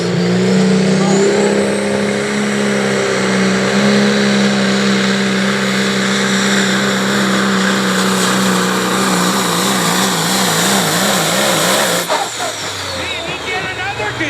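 The 85 Max Superliner pulling truck at a tractor pull, its engine roaring loud and sustained under an announcer's voice, wavering in pitch as it strains, then cutting off sharply near the end.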